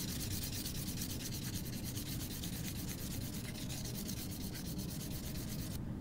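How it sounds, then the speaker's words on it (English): Steady dry rubbing of 600-grit sandpaper against a metal jewelry piece, worked back and forth horizontally, continuous and close throughout with no talk. "Now using 600 sandpaper, sand in a horizontal motion against your piece of metal."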